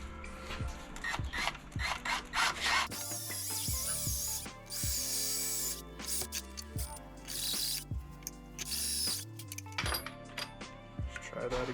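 A ratcheting pipe die cuts threads on pipe for a rooftop solar shower, giving a steady series of close mechanical ratchet clicks with bursts of grinding scrape in between, and some talk mixed in.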